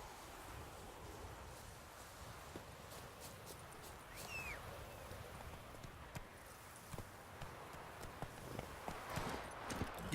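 Horse hooves clopping at a walk in The Witcher 3, a steady soft clip-clop under a constant outdoor ambience of wind and surf-like wash.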